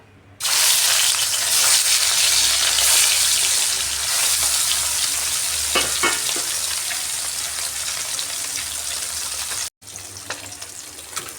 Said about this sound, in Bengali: এবার মাছগুলা দিয়ে দিচ্ছি।